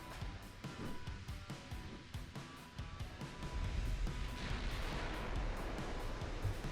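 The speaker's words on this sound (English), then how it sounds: "fire everything aggressively. And let's fire high explosive shells" Battleship guns fire high-explosive shells in the naval game Ultimate Admiral Dreadnoughts, a rapid run of sharp booming reports over a steady rumbling sea-like roar that swells louder midway.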